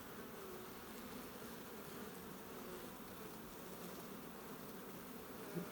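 Honey bees at an open beehive frame make a dense, steady buzzing drone, close and continuous, with no voices over it.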